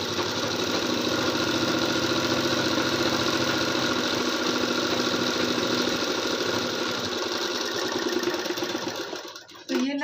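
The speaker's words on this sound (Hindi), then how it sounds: "तो ये सिलाई को लगा देते हैं।" Sewing machine running steadily while stitching a blouse, a continuous close mechanical whir with rapid needle rhythm that holds for nearly ten seconds before briefly stopping near the end.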